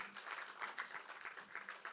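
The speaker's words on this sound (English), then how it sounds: "another round of applause for our teachers" Faint audience applause for teachers at a youth anniversary event, a soft, steady patter of many hands clapping from some distance, continuing evenly throughout.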